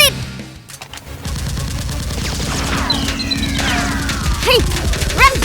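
Toy Nerf blasters firing during a chaotic Nerf war, a dense barrage of sharp shots and mechanical clacks over a loud background, with whistling sweeps and shouting voices mixed in.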